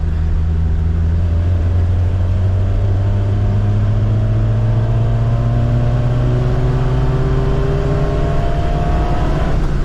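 A lifted Suzuki Samurai with a stock 1.3L engine on 33-inch tyres accelerates on a top speed run, its loud engine note rising steadily in pitch over continuous road and wind roar.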